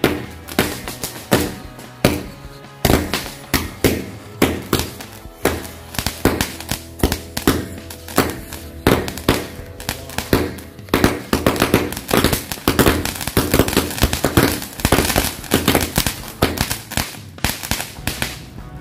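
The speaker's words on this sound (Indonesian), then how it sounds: "selanjutnya iki kita cobain mercon mini cake 50 shot ya dari Hercules" A 50-shot mini cake firework fires a rapid barrage of shots that crack and pop in quick succession, dozens of sharp bangs overlapping for many seconds, loud and close.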